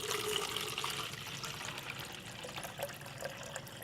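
Water poured into a 2-liter plastic bottle for a wicking setup, a continuous close trickling, splashing stream lasting about four seconds with slight bubbling, no voices.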